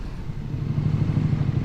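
A KTM 1290 Super Duke R being ridden gives off a steady low engine rumble with wind noise, holding close and fairly loud for a couple of seconds with no speech.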